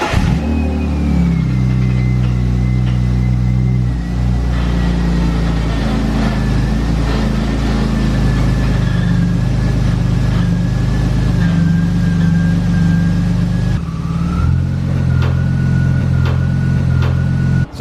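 A BMW E36 328is idling and revving, a steady mid-pitched engine rumble with a thin whine above it, running continuously for a long stretch with a brief dip partway through.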